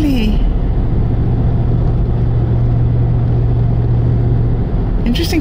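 A car rolls along a street, its low engine rumble and road noise loud and steady throughout, with a faint hint of voice at the very start.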